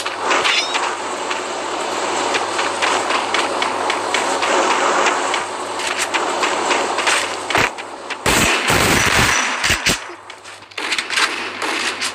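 In the mobile shooter game Free Fire, gunfire rattles in rapid, dense bursts against steady background game noise, followed by a few sharper, separate shots.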